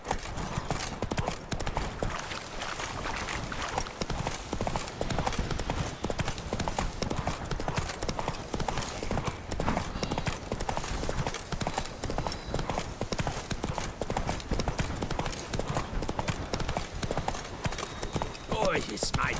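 Hooves of Roach, the horse in The Witcher 3, pound in a steady galloping rhythm on the ground for the whole stretch, close and clear, under game music and a man's occasional speech.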